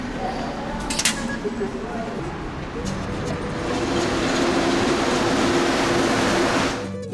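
A Mexico City metro train rumbles steadily through a station, with a brief clatter early on and the roar swelling midway before cutting off.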